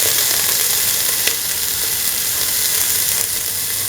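Shallots and ginger sizzle in hot oil for a stew, giving a loud, steady frying hiss close by, with a couple of faint clicks and no talking.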